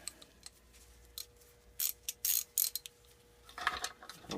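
A 1/4 inch ratchet clicks in short bursts and quick ratcheting runs while working on a 1987 Briggs engine during a teardown, close and fairly quiet, with pauses between strokes.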